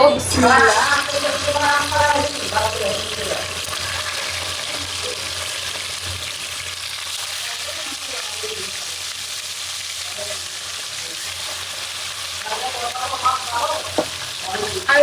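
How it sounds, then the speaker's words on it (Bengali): Fish rubbed with turmeric and salt frying in hot oil with a loud, steady sizzle, spattering close by, while a voice talks faintly at the start and near the end. "এখন হচ্ছে মাছটা ভেজে নিব"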